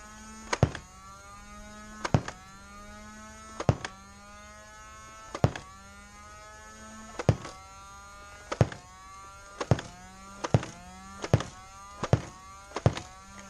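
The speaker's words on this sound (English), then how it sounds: "this is a bone stock Evader firing at the bunker" A stock Nerf Evader motorized blaster firing Koosh darts at an inflatable bunker: about ten sharp, close thunks at a fairly steady pace, with a low motor whine humming between shots.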